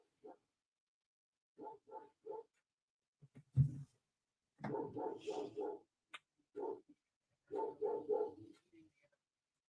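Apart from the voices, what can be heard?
dogs barking in the room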